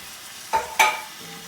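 A 28-ounce can of diced tomatoes being stirred into chicken curry simmering in a pot: two short, close scraping strokes of a spoon, the second brighter with a ringing metallic edge.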